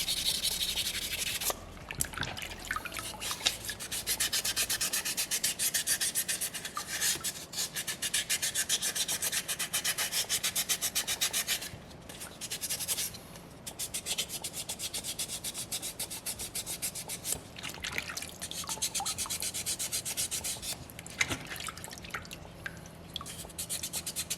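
Sandpaper rubs steadily over a small soapstone orca carving, a continuous close-up rasping scrape with a few brief pauses and shifts in stroke.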